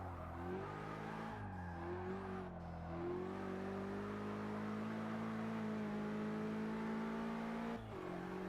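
A BMW M car's engine revs and pulls hard in the racing game Forza Motorsport 6, a loud, steady drone rising through the gears with brief dips at shifts, alone without talk.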